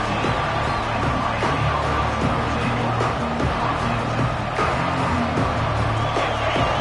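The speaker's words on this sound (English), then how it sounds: "Listen to the crowd energy here in the early going." A dense stadium crowd in a Madden football video game roars steadily throughout, a broad wash of cheering and murmur with a low rumble underneath, loud and continuous with no clear pauses.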